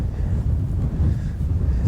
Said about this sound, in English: as we approach what a very windy day